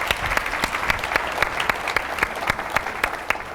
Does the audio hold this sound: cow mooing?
no